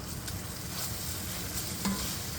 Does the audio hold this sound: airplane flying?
no